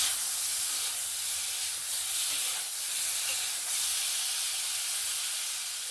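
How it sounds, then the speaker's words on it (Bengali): Paneer pieces fry in a small amount of leftover oil in a pan, giving a steady, even sizzling hiss that holds at a moderate level throughout with no talking. "ওতেই আমি পনিরগুলো একটু হালকা করে ভেজে নেব"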